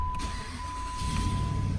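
A truck's 4.7 engine rumbles at idle with a rough, raspy low drone from an exhaust leak and a thin high whine, steady and close.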